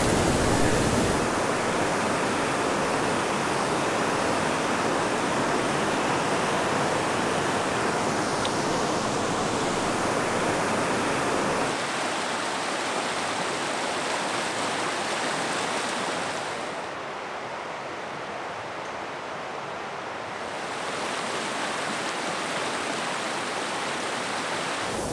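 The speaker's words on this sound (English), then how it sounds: "the zone that we've been in here is just like one big ledge waterfall after another" Waterfalls cascade over a series of ledges in a canyon, giving a steady, loud, broadband rush of water that dips slightly in level partway through, with no talk.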